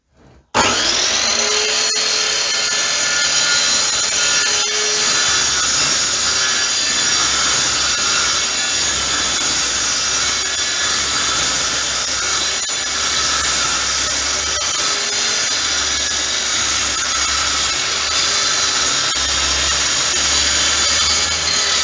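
A saw cuts steadily through a heavy wooden conference table in one loud, continuous grinding run that lasts about twenty seconds without a break.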